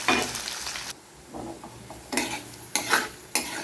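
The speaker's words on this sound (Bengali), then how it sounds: "পরিমাণ মতো পেঁয়াজটা এবার লাল লাল করবো" Onions fry in a pan until browned, with bursts of loud crackling sizzle between quieter stretches and a few soft utensil taps and scrapes.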